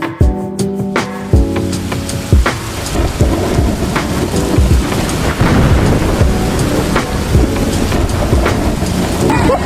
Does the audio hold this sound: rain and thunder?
yes